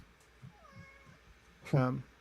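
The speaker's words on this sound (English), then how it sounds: "that's my cat" A pet cat gives a single short, clear meow near the end, close and fairly loud, after a stretch of quiet background with faint murmuring.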